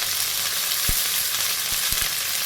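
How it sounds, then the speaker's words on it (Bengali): Neem leaves sizzle and fry in hot oil in a pan for neem begun, a steady loud crackling hiss with a few soft thumps of stirring. "আমি আজকে একটু নিম বেগুন ভাজবো। নিম পাতাগুলো দিয়ে দিলাম"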